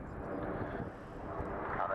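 RAF Red Arrows jets flying high overhead during an airshow display, a faint, broad roar of engine noise beneath a person talking.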